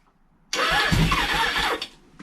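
A 1983 Suzuki GS 1100E motorcycle engine, newly rebuilt after a year, cranks and catches, running roughly at close range for over a second before cutting out abruptly, with no talk.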